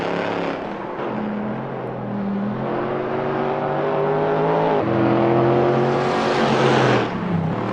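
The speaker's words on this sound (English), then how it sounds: "They go down the long main straight at the Nürburgring." Race cars, a McLaren and a Corvette, roar down the long main straight at the Nürburgring in a racing video game, engines droning steadily with rising pitch and a louder surge near the end.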